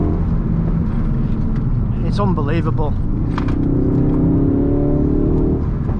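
A Ford Focus RS drives and accelerates on the road, a steady loud engine and road drone rising in pitch, while someone talks over it.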